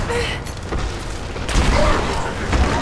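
Gunfire and heavy impacts in the action game Rise of the Tomb Raider, a rolling burst of shots with a louder boom midway, layered over game sound effects.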